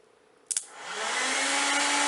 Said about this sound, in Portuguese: Eu tenho uma carga lá que é um secador de cabelo